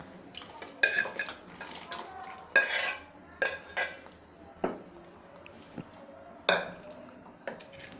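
Metal utensils clink and scrape against a pot as cooked mutton with its water is tipped into boiling masala and stirred, with wet splashy sounds in irregular bursts.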